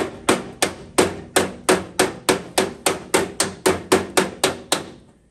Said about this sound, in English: That's on dolly, right? Once you get that, when it's off dolly, you get that little bit hollower sound to it.